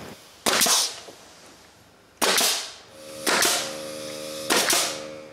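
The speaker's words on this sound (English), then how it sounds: "Now we can start nailing the wall studs." Hammer nailing wooden wall studs for a cottage woodshed: four loud, sharp blows spaced unevenly about a second apart, each with a brief ringing decay, close and alone.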